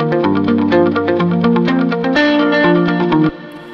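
Recreated distorted electric guitar tone modeled on a famous record, a short loud riff of strummed chords with chorus and echo that stops suddenly, leaving a brief fading tail.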